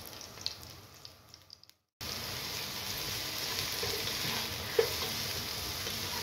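Frying in a pan while making chicken patties, a dense, even hiss of hot oil after a brief silent break, with a few faint clicks before it and one small pop later.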